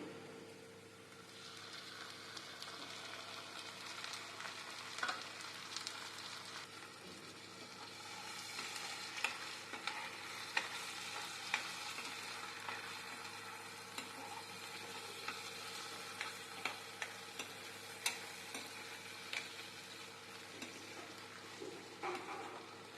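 Tomato and green chilli pieces fry with onions for an Andhra-style dried prawn gongura curry, giving a steady soft sizzle with scattered clicks and light stirring taps throughout.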